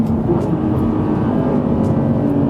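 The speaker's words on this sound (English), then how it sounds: "Listen to that downshift." Audi R8 with high mileage, engine droning steadily and loudly from inside the car during a downshift, with no clear rev blip standing out.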